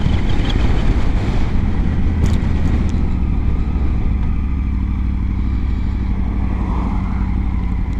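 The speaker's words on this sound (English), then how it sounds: "that wind is certainly strong today" Strong wind roars steadily against the microphone during a ride on a Triumph 900 Rally motorcycle, a loud, continuous low rumble that swells and buffets throughout with no talking.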